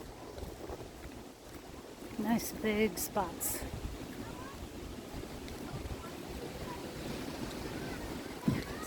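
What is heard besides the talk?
wind at campground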